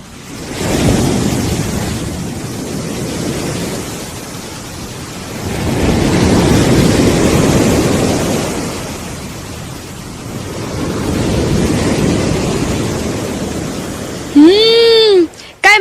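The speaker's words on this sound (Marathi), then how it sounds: "किती मोठा समुद्र आहे." Sea waves roll onto a shore in slow, broad surges that swell and fade repeatedly under wind noise, with a brief sharp tonal squeak near the end.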